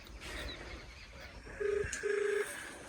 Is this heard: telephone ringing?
yes